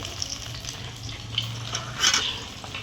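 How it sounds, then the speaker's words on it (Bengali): A pan of fish sizzles quietly on the stove, a faint continuous frying hiss with occasional brighter crackles and spits. "আর এই যে মাছ ভাজা হচ্ছে এখানে"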